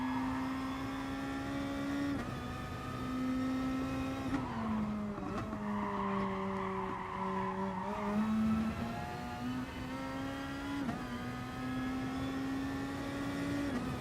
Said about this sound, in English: we gotta be careful on them downshifts into that corner